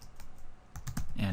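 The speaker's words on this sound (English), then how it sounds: "After this, we type parentheses" Typing on a computer keyboard while entering code in a scripting tutorial: a short run of quick, light key clicks in an irregular rhythm, fairly faint and close.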